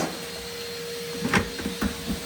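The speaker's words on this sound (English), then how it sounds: "today, I'm just literally vacuuming out places that don't usually always get vacuumed by the cleaners" A vacuum cleaner drones with a steady tonal whine while it cleans out the inside of cupboards, and a few short knocks and bumps come as the nozzle meets the shelves.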